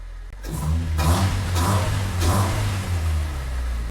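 Car engine started and revved during an oil change, a close, loud engine with several rhythmic rev swells over a steady running rumble, alone without talk.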